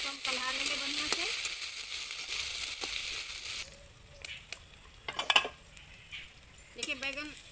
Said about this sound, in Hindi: अब इसमें पहले हम बैंगन डालेंगे। पहले बैंगन को हम कल्हा लेंगे बढ़िया से।